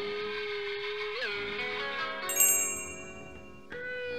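A small bell in The Night of the Rabbit video game gives a bright, high chime partway through, ringing out briefly over a steady, tonal game music background.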